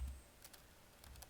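Laptop keyboard typing during a Linux setup, a few quiet clicky keystrokes spaced out over a faint background hiss, with no speech.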